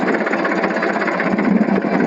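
A tractor engine runs close by in a groundnut field with a steady, throbbing mechanical chug and rattling vibration, loud and unbroken throughout.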